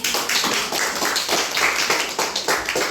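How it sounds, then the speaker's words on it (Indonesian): A group in a classroom gives a round of applause for a student after a chemistry explanation. The clapping is dense, continuous and fairly loud, with no voices. "Kasih tepuk tangan dulu untuk Rizky"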